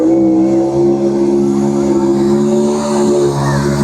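A mud bog truck with a race motor drones loud and close in a sustained, deep rev, its engine note holding steady with slight surges while faint voices sit underneath.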